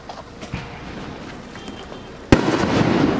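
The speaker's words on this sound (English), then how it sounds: "It's 4th of July and the fireworks are going." Fourth of July fireworks boom once loudly up close outdoors after a stretch of faint scattered pops and background noise, with the sharp burst followed by a dense crackling wash.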